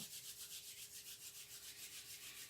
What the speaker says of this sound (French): On se frotte les mains ensemble